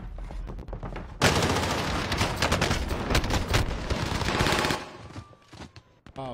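Dense, loud bursts of automatic gunfire in the video game Warzone, rapid overlapping shots for several seconds that then break off abruptly into quieter sporadic sounds.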